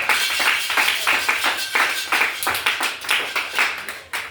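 A church congregation claps hard in a fast, uneven rhythm with dense overlapping hand claps, loud and close, cheering the Lord during a special service.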